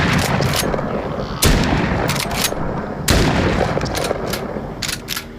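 A shotgun loaded with slugs fires in a video game, with loud booming shots at irregular intervals, each followed by reverberation and faint mechanical handling noises.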